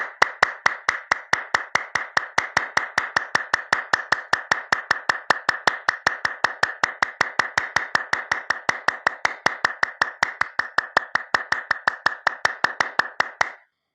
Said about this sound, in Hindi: इस तरह से ताली बजाएँ।